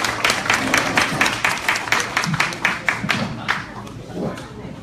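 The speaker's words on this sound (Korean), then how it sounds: "박수 주세요." An audience at a Korean delegates' retreat claps for a speaker being introduced, with brisk, fairly close applause and individual claps standing out as the clapping loosens and tapers off.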